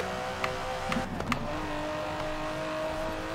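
An Aston Martin DB11 with a 5.2-litre twin-turbo V12 in the Forza Horizon 4 racing game, a steady engine drone with brief revving blips and gear shifts early, then a sustained even hum.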